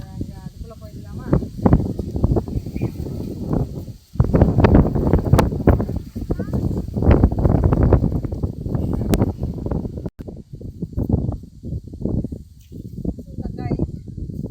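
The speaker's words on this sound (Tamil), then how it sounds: "காற்று செம்மையாக அடிக்குது" Strong wind gusting through a vegetable garden of brinjal and turkey berry plants, loud buffeting rumbles hitting the microphone in repeated bursts with brief lulls, close and rough, with no voices.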